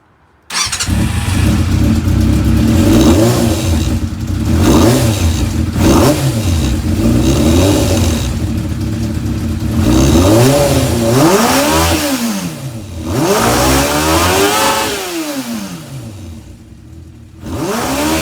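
A Yamaha YZF 600R sport motorcycle accelerates hard through a quarter-mile run, its engine screaming up through the revs in repeated rising sweeps with brief dips at gear changes, loud and close.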